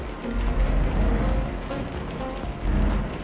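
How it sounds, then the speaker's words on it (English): Steady rain in the trucking game Euro Truck Simulator 2 with ProMods, on a desert route between Iraq and Lebanon, falls as a continuous broadband hiss over a low rumble, moderately loud without pause. "So another rainy day in the desert."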